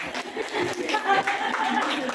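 A group of people clapping together, a dense patter of claps with voices mixed in throughout, fairly close and steady for a couple of seconds.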